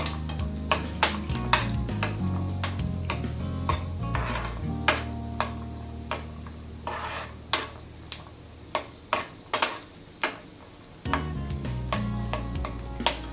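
Peanuts fry in oil in a pan for a variety rice dish, a steady low sizzle broken by repeated sharp clinks and scrapes of a spoon stirring against the metal, close and fairly quiet, with no voices.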